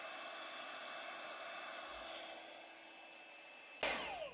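A heat gun blows a continuous airy roar while heat embossing onto aluminium metal tape. It stays steady for about four seconds before a short, louder burst near the end.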